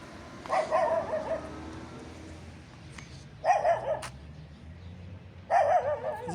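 A dog barks in three short bursts, each a quick run of yelps spaced a couple of seconds apart, moderately close over a quiet background.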